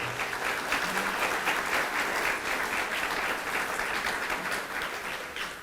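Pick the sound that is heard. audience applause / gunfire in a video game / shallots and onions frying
audience applause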